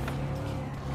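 A car drifting in Gran Turismo 7 with a steady engine drone and tire squeal, a BMW swinging its rear end out, loud and sustained throughout.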